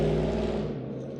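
A loud truck rumbles past the outside of an old building, a heavy, steady engine roar that fills the short stretch and eases slightly toward the end, with no talk over it.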